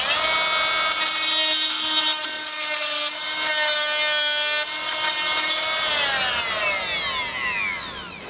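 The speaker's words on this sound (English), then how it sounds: "You watch what it does when we cut timber." A Fein Multimaster oscillating tool cuts into timber with a loud, steady high-pitched buzzing whine that holds for several seconds, then drops in pitch and tails off as the blade winds down.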